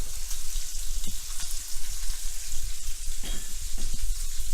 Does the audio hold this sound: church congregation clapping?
no